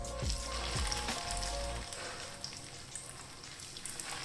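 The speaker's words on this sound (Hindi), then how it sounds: "हल्की आग पे मैं इसको फ्राई कर रही हूँ।" Chicken shami kababs fry in hot oil in a pan over low heat, giving a quiet, steady sizzle with faint crackles and a few low thumps early on.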